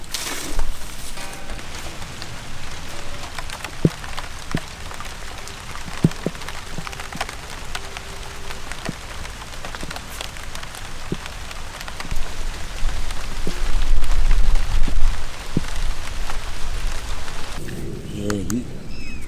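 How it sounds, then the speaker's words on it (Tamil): Steady rain falls outdoors during cooking, a dense pattering hiss with scattered drips on surfaces, growing heavier toward the end. "மழை வந்துக்கிட்டு தான் இருக்குது."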